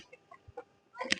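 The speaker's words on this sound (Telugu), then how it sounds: "అక్కడ చూడరు గైస్, చిన్న బాతులు." Small ducklings at a village pond give a few faint, scattered peeps and soft chirps, ending in a brief cluster of higher calls, all quiet and fairly distant with no talking.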